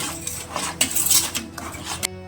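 Utensil scraping and clinking in a pan as grated coconut is stirred into sugar syrup, a run of irregular scrapes and taps, moderately close and steady, ending abruptly.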